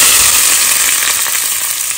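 Chopped onion and garlic frying in hot oil for a tempering on lamb paya soup, a loud, dense, crackling sizzle that fills the sound throughout with no pauses.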